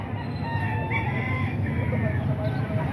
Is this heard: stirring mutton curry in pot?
no